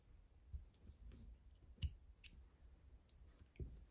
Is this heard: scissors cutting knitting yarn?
yes